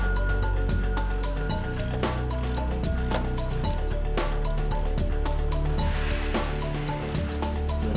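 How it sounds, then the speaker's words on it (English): A ratchet fitted with a 22 mm socket clicks rapidly and steadily at close range while turning a Vanos filter plug, its dense, even pawl ticks continuing for the whole stretch. "After which you will use your 22 millimeter socket."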